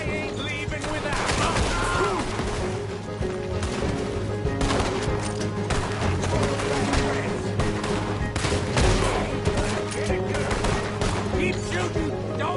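Shootout gunfire in the Red Dead Redemption 2 video game, a dense, continuous clatter of repeated shots with sharp cracks over a busy game soundscape, with some voices mixed in.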